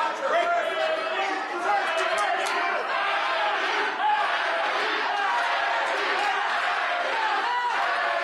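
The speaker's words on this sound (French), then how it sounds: "Vous pouvez entendre la foule là" Packed hall crowd at a Canadian women's boxing championship bout, Mary Spencer against Ariane Fortin, a dense continuous roar of chatter and shouting that stays loud and steady throughout with no break.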